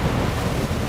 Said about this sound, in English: it's pretty bad rain